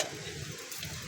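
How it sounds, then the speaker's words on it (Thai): Corn kernels roast in a pan as they are stirred, giving a soft, steady sizzle and scraping that stays at a low, even level from start to finish. "น้องพลอยกำลังคั่วสาลีมากิน"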